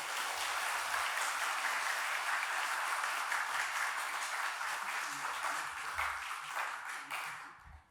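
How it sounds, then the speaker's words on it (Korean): Loud, sustained applause from a large church congregation, a dense wash of clapping that holds steady and then fades out at the end. "먼저 여러분 한번 힘차게 박수로 환영하겠습니다"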